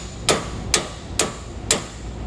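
Metal bushing driven into the eye of a trailer leaf spring on a curved equalizer setup: four sharp, evenly spaced hammer blows ringing out close and loud with nothing else in between.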